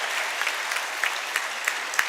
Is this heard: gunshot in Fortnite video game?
no